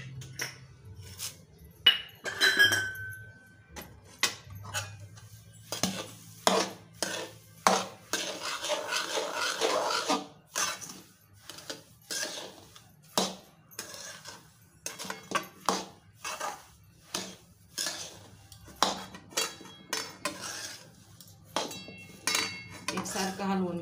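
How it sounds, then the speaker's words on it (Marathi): A spoon scrapes and clinks in a pan as peanuts and puffed amaranth are stirred into hot sugar syrup for laddoos, with the gas switched off. The clatter comes in steady, close rhythmic strokes with no talking. "आता आपण ह्याच्यात शेंगदाणे आणि राजगिरे घालून घ्यायचे. राजगिऱ्याच्या लाह्या, आणि हलवून घ्यायचं एकसारखं."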